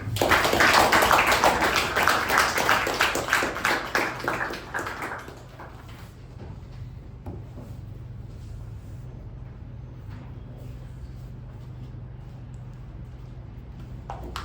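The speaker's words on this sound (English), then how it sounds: "With a huge round of applause, let's welcome our president of Mekon Communication Club" A Toastmasters communication club audience gives a loud, dense round of applause to welcome the club president; the clapping lasts about five seconds, then fades into quiet room tone.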